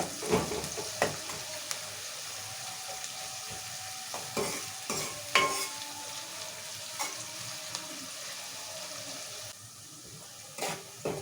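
Thinly sliced onions fry in a pan until reddish, giving a steady sizzle broken by repeated sharp scraping stir strokes, close and fairly loud, with no talking.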